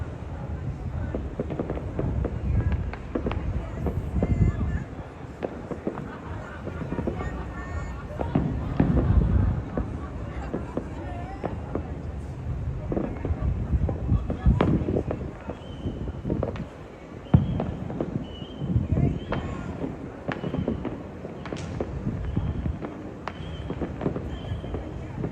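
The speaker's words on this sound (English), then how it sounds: "I'm looking out for fireworks" Fireworks going off on New Year's Eve in Trinidad, a steady run of bursts and crackling pops from mid-distance, with wind buffeting the microphone and people talking throughout.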